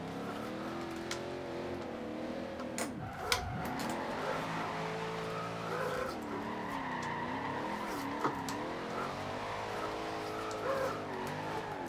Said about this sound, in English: Okay, the wheels are spinning a lot now.